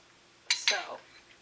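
A small spoon scraping and clinking against a bowl while scooping fruit for a fruit cake, two quick soft metallic scrapes close by in a quiet kitchen.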